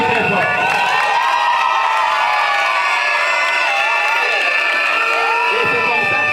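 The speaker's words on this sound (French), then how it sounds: "On peut l'applaudir très fort." Pupils and families at a school year-end closing ceremony cheer and clap loudly, with a continuous wash of children shouting and whooping over applause, steady and intense throughout.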